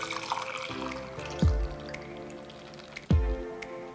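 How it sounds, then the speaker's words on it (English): Celery juice is poured into cups, with close drips and a couple of gurgling splashes as the liquid lands, alone with no talk. "Now I'm gonna pour it over to the cups."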